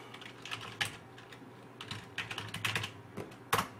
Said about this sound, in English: Just type a name for it.